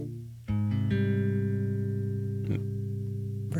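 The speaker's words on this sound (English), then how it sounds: "No, that's two basses." Two bass guitars layered on an album, sustained low droning notes that ring out steadily, with a second note joining after a moment and a soft attack returning near the end, loud and unaccompanied by talk.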